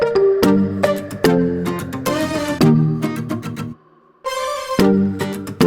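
A bell sound in a pop track rings out with bright, bell-like notes over a rhythmic beat, a brief dropout near the end, then the full mix returns loudly.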